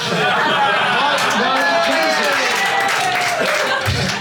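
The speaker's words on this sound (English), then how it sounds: "And you're right to applaud that." Audience applause and crowd noise fill a London comedy club, a steady dense wash of clapping and chatter that holds loud for several seconds.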